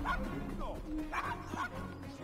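Dog barks and yips in the video game Assassin's Creed Syndicate, several quick sounds over a busy in-game street ambience, with a voice speaking in between.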